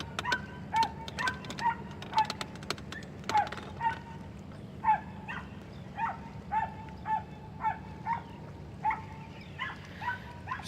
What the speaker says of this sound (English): we've angered the perrito. For those of you who are not bilingual, perrito is a little dog. But he's not barking at me, though.